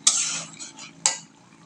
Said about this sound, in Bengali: এখন সুন্দর করে নাড়াচাড়া করে নেবে, নাড়াচাড়া করে নিচ্ছে